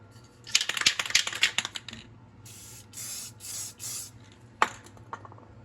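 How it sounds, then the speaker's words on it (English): Several hissing bursts from a spray can of rust protection coating on a truck frame, short puffs then longer sustained sprays, close by, with light clicks and rattles between them and no talking. "time to spray it down so it doesn't rust"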